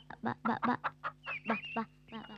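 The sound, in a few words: chickens clucking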